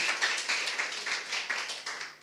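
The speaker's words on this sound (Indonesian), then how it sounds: "Ayo tepuk tangan yang meriah buat Tuhan kita." Congregation clapping hands together during a church worship service, a dense, steady burst of many claps sounding close and lively throughout, with no talk over it.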